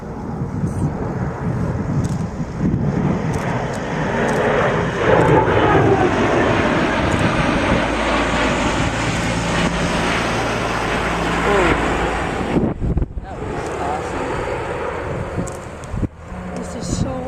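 A jet aircraft makes a high-speed low pass at an airshow, a loud roaring rush that swells and then fades, with wind buffeting the microphone and spectators talking.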